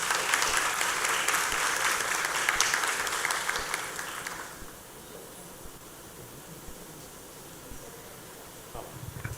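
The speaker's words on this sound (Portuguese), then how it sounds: "Vamos recebê-la com uma salva de palmas." An audience at an inclusion workshop applauds to welcome a speaker, loud steady clapping for about four seconds that then fades into quiet room noise.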